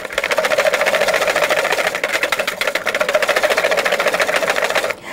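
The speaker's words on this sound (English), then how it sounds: "I'm just going to start mixing these until it starts to lighten in color." Egg yolks being beaten in a bowl for orange-spiked chocolate ice cream, giving a steady, loud whirring drone with a fast rhythmic clatter that runs without a break and cuts off abruptly near the end.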